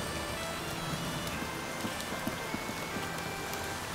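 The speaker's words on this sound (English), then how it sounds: "And it's raining." Steady rain pours down in the video game Patron, a dense, even hiss of drops hitting surfaces, continuous throughout with no voices.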